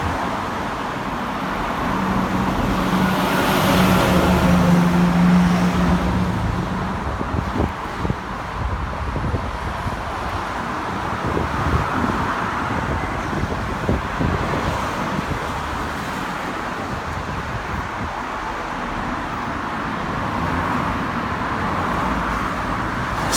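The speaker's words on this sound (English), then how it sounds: "Soon as traffic stops one side, it comes the other way." Road traffic passes along a street in Bristol, UK, a loud steady roar of cars swelling and fading under gusts of wind noise, with no talk.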